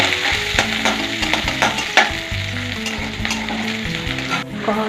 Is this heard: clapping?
no